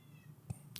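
A single short cat meow near the end of the clip, fairly close, following a quiet stretch with a faint low thump midway.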